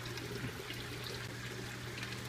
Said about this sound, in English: Put the cap on, and this time I'm going to shake vigorously for